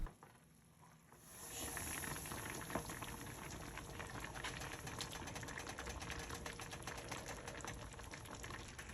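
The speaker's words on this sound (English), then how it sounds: "I'm going to let it simmer for a good long while and let all of those flavors marry together" Sauce simmering in a pot on the stove for a budget family meal, giving a steady, soft bubbling and popping that continues evenly with no one talking.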